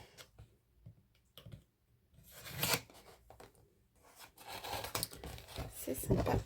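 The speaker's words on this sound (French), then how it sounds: "enlever tous les petits scotch." Small pieces of sticky tape peeled off packaging indoors, giving soft rubbing and crinkling noises with a few sharper tearing rips, close by and irregular, without speech.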